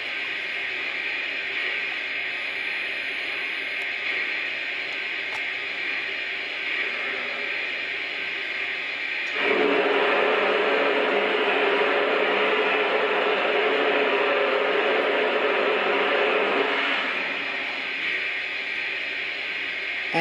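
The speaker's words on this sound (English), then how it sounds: "take a listen at the blowdown sound effect" Steady hissing steam blowdown from a Vision Big Boy model locomotive, a continuous broadband rush that swells louder for several seconds midway and then settles back to a constant hiss.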